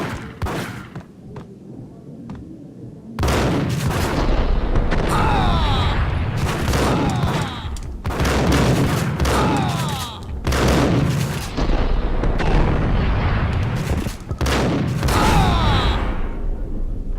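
Heavy gunfire in the video game Max Payne, loud repeated bursts of shots and booms coming in rapid clusters with brief lulls, close and dominant for most of the stretch.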